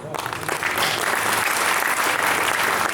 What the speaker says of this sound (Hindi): ताली गलत जगह बजाई आपने।